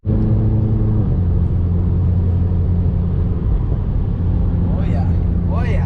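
A car cruising on a highway, its steady loud engine and road rumble droning throughout, with an engine note that rises and shifts near the end.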